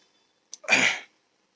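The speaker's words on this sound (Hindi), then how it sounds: "तो कुछ ज़्यादा ही खांसी आ रही है" A single short, sharp cough preceded by a quick intake of breath, close and isolated in otherwise quiet surroundings.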